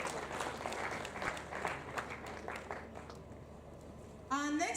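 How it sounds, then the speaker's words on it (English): Applause for a panelist at a conference, a crowd clapping under a speaking voice that fades out before a brief sharp tone at the end. "Please give him yet another round of applause."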